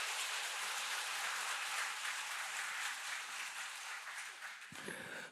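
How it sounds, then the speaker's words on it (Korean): A church congregation claps together in dense, steady applause that continues for several seconds and then tapers off abruptly near the end. "우리 구원을 영접하고 선물로 받으신 분들을 위해서 박수로 한번 우리 축하하겠습니다."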